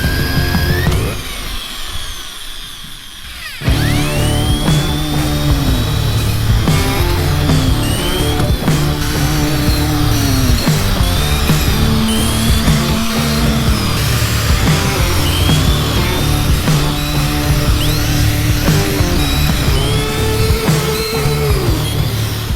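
A power drill with a 1/8 bit drilling out rivets on an aluminum jon boat, repeated short whining bursts of varying pitch one after another, loud and close, after a brief quieter moment at the start.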